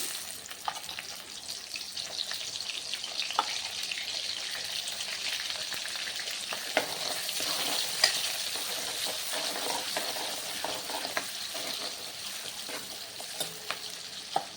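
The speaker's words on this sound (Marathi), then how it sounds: "तेल गरम झालेलं आहे मोहरी घालायची आहे मोहरी झाल्यानंतर कांदा घालूया" Mustard seeds and onion fry in hot oil for a pigeon-pea amti, giving a continuous, even sizzle dotted with small crackles and pops throughout, with no one speaking.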